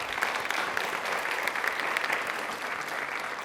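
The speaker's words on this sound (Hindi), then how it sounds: "तालियां प्लीज एक बार जोर बजा दीजिए।" A studio audience on a televised quiz show breaks into steady, dense applause that holds at an even level throughout, with no talk over it.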